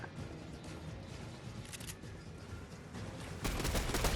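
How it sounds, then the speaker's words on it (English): A boss in the Fortnite video game fires his weapon in rapid bursts of gunfire, dense crackling shots throughout that grow louder near the end, with no talk. "that weapon that he's shooting at you right now"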